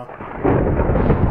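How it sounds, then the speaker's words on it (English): Deep thunder rumbles loudly in the Minecraft video game while the player is down in a mineshaft, a swelling roll that grows and holds steady without any talk. "It makes it a bit more scary being in a bloody mineshaft with thunder."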